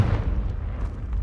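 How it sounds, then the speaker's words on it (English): The Confringo explosive spell going off in Hogwarts Legacy, a dense, rumbling blast with a heavy low-end roar that holds steady and loud for about a second without voices. "Confringo!"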